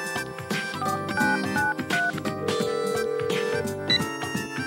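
A phone rings inside the video game Sweat & Tears 2, a melodic, tonal ringtone that plays continuously and fairly loud through the whole stretch, layered with other game sounds and no talking.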